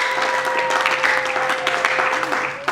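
A congregation at a church wedding applauds loudly and continuously, dense clapping from a near crowd with a sustained tone underneath.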